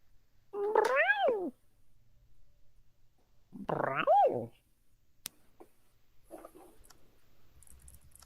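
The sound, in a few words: squeaky kitten meowing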